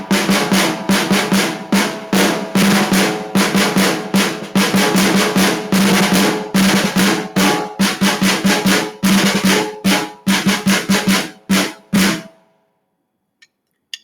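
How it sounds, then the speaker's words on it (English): A snare drum played alone in quick, sharp hits and rolls, loud and close, for about twelve seconds before stopping into silence. "So snare drum will sound something like this."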